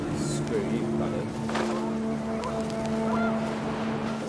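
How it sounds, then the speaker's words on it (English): Geese honking in the video game What Remains of Edith Finch: several nasal honks at close range over steady wind and a low engine-like drone, with a voice talking through it. "The wind picked up, and panicked geese appeared and quickly went."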